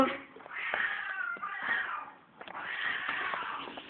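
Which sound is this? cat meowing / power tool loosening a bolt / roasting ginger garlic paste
cat meowing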